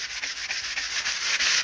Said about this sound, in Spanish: voy a empezar a lijar